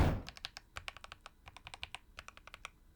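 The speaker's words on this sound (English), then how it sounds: "Their soft surface absorbs high frequencies, making the keyboard much quieter and more muted overall." Fingers type in quick bursts on a keyboard fitted with rubber-coated PBT keycaps, producing a close, steady run of soft, muted clicks and thocks with brief pauses between strokes.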